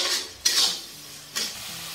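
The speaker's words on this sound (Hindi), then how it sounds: "हम लाल होने तक इस तरह से चला चला के इसे भूजेंगे" Onions stirred and fried in a kadai, a steady sizzle broken by two sharp scraping strokes of a spoon against the pan, close and moderately loud, with no voices.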